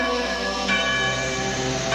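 Monastery bells chime in a steady, ringing wash with layered resonant tones, fresh strikes swelling twice over a sustained hum, loud and without voices.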